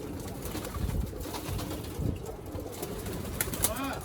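Nash pigeons and young squabs coo steadily in a loft, a continuous low murmur of many birds close by with a few louder calls and no speech.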